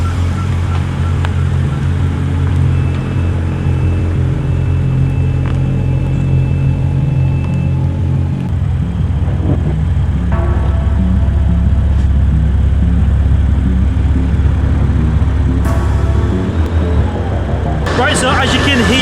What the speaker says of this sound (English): as you can hear, we're just warming the car up, and then we're going to do the full run